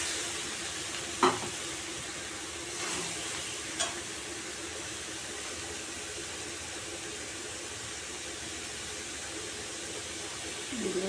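Radish dropped into hot oil tempering for a Bengali moolor chhechki, frying with a soft steady sizzle, a couple of faint clinks and stirs along the way.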